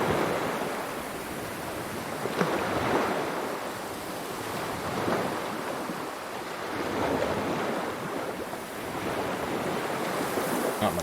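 Ocean waves and gusting wind in the Dark Souls video game, a steady, loud wash of surf swelling and receding in slow surges with wind noise throughout, no voices.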